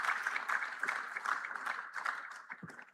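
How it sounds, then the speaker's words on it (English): Summit attendees in a conference hall applaud a speaker, giving a sustained, moderately quiet ripple of clapping heard from a distance, with a brief low thump near the end. "Please, a round of applause for him."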